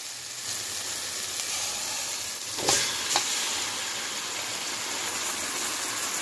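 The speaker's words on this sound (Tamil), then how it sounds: "மேரினேட் பண்ணிக்கிற சிக்கனை நம்ம இதில் எடுத்து போட்டுக்கலாம்" Marinated chicken fries in a pan with smashed tomato, giving a steady, loud, close hiss of sizzling throughout, broken by a couple of brief stirring clatters near the middle, with no talking.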